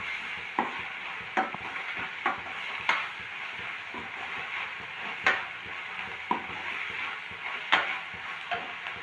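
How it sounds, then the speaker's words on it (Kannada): Onion-coriander masala frying in oil for potato palya, a steady sizzle under regular spoon scrapes and taps on the pan every second or so, close and moderately loud. "ಇದನ್ನೆಲ್ಲ ಮಿಕ್ಸ್ ಮಾಡಿ ಇದನ್ನೆಲ್ಲ ಈ ಥರ ಫ್ರೈ ಮಾಡ್ಕೊಳ್ಳೋಣ ಆಯಿಲಲ್ಲಿ"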